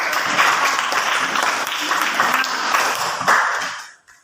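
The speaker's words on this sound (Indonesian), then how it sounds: "tepuk tangan buat kelompok" Classroom applause for a student discussion group, a dense steady patter of many hands clapping close by for about four seconds before stopping abruptly.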